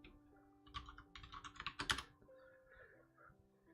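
Someone types on a computer keyboard during a livestream, a quick run of close, crisp key clicks clustering in the middle and then fading to quiet.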